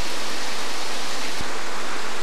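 Steady broadband rush of a waterfall outdoors, a continuous even roar with one brief low thump near the middle, no voices.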